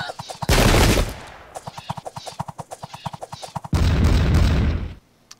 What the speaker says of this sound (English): Cannons away.